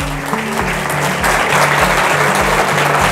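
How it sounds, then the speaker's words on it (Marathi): An audience in a hall gives strong applause for sponsors at an MPSC quiz event at a study centre in Rathinagar. The dense, steady clapping from many hands fills the whole clip at close range. "आमच्या या दोन्ही स्पॉन्सरसाठी एक वेळा जोरदार टाळ्या होऊ द्या मित्रांनो"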